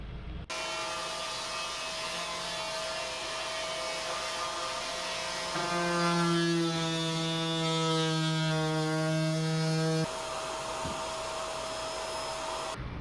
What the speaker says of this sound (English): just drilled out my hole so I could run my wire